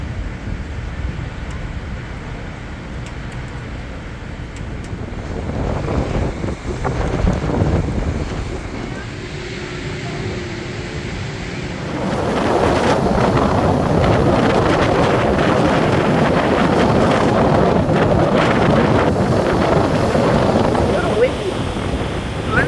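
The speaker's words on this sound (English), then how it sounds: "Windy today." Strong wind in Pensacola roars and buffets the microphone, growing louder and more constant halfway through, with a broad rushing noise that never lets up.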